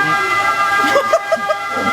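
Short bursts of an ambulance siren sound among traffic noise, with rising pitched blips toward the end, fairly close.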